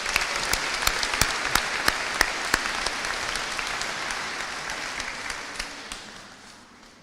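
A crowd at a university graduation degree and award ceremony claps, with sharp individual claps standing out over the broad applause, which gradually fades away toward the end.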